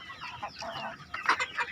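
Chickens in a breeding pen cluck softly and irregularly, with a few louder, sharper calls toward the end, heard close up with no talking.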